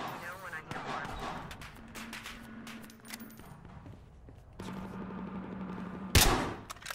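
Scattered gunfire in Battlefield Hardline multiplayer, with a sharp loud shot near the end among softer distant pops, under a voice talking.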